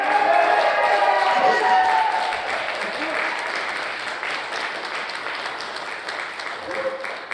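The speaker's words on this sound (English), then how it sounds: "give a big round of applause" Audience applause for a speaker named Bob at a Dearfield and Black Cowboys talk, a steady wash of many hands clapping that starts loud and slowly thins toward the end, with faint voices underneath.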